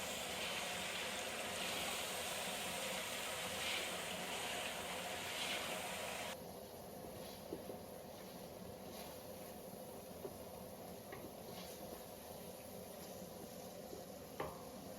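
Jollof rice sauce frying in a pot, with tomato, oil, blended pepper, onions and shombo hissing and sizzling steadily, loud at first and then a little softer, with faint scrapes of stirring now and then.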